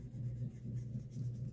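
A pencil scratches across sketchbook paper in close, soft strokes with a quiet, steady rhythm.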